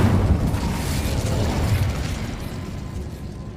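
An Incendiary fire spell goes off in Hogwarts Legacy, a loud, rumbling burst of flame that swells at once and then slowly tails away into a fading roar, with no talking over it.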